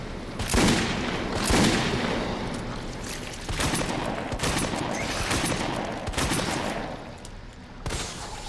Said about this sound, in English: Four Magnum rounds, 4 shotgun shells, backed up with the 1911 out to take out those larvae coming at me